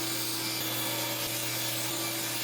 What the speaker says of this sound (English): I'm going to rip both sides of this square and run it down through here